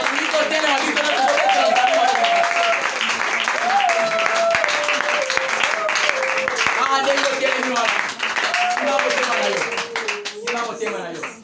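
A church congregation at a worship seminar applauding and cheering continuously, dense loud clapping mixed with shouted acclaim and a voice leading over it throughout.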